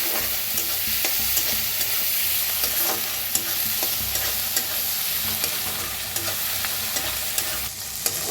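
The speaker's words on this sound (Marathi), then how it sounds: "कांदा छान भाजायला लागलेला आहे" Onion and coriander fry in a pan for dingri bhaji, a constant close sizzle with frequent scraping stirs and small clicks of the spatula, no talking.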